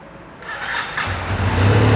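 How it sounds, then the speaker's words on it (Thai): A 2020 Benelli Leoncino 500 Trail motorcycle on its stock exhaust fires up, a starter whir followed by the engine catching and settling into a loud, steady idle close by, with no talking. "เดี๋ยวฟังเสียงท่อคันนี้กันครับ"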